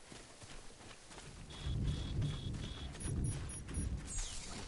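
Low rumbling thunder rolls under a steady hiss of rain in the game Death Stranding, with faint tonal beeps and a soft swoosh near the end.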